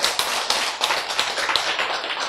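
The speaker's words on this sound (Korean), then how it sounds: "박수." An audience at a Korean church lecture breaks into applause, a dense, even patter of many hands with a few sharper claps standing out, filling the room for a couple of seconds.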